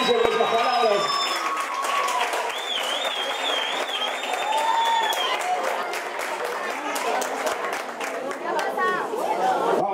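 A crowd at a family eighteenth-birthday celebration claps and chatters continuously, with a voice speaking over the applause throughout.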